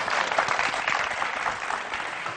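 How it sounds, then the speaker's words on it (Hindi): Studio audience applause on a Pakistani morning talk show, a steady, dense wash of many hands clapping that holds at an even level throughout. "बहुत सारी तालियां।"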